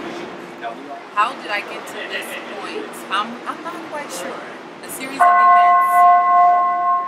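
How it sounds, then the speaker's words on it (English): A bell rings with a sustained, resonant tone that starts partway through and holds to the end, heard over someone talking. "And there's the bell."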